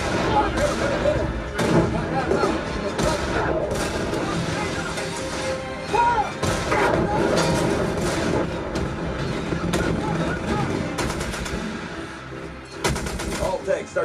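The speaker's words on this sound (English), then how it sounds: "transitions between the machine gun fire and the artillery fire were seamless without any kind of overhang due to large transients" Machine gun bursts and heavy artillery blasts from a war movie soundtrack, played through an Emotiva XS15 home theater subwoofer, fill the clip loudly and continuously with dense, punchy gunfire and booming impacts, with voices shouting underneath.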